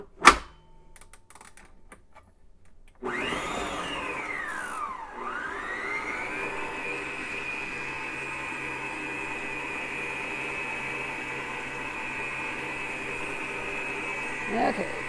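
An electric hand mixer whirs steadily for about twelve seconds, beating nut-free brownie batter after a brief clunk, a continuous close-up motor drone that dips once in pitch as the beaters lower into the mix.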